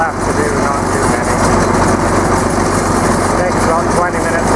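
A tractor engine runs steadily in a garlic field, a dense, constant rumbling drone heard close and loud throughout.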